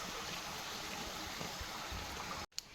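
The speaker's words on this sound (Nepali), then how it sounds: "यस्तो छ यो पानीको निकास धारा रहेछ।" Water flowing steadily out of a pond's outlet spout, a close, continuous rushing trickle that stops abruptly near the end.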